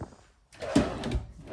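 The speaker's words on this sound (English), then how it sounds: "Nice pots and pans drawer there." A pots and pans drawer in a 2026 Keystone Sprinter 3900DBL RV slides open with a short rolling rumble and a soft thump at the end, close and moderately loud.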